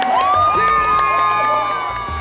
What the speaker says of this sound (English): you can hear the crowd yelling, hear people yelling your name